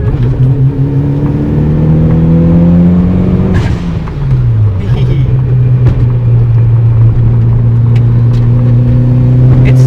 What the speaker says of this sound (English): And especially when that turbo blow off just goes.